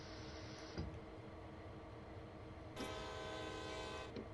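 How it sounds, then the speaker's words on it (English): Two loud blasts from a locomotive horn in a train simulator game, the first cutting off just before one second and the second sounding longer near the end, over a low rumbling engine idle. "Hit the horn twice."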